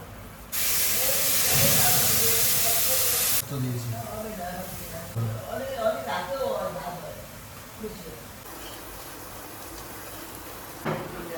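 Spice paste with turmeric hits a hot pan and sizzles loudly for about three seconds as a bright steady hiss, then fades to a softer frying crackle under talking.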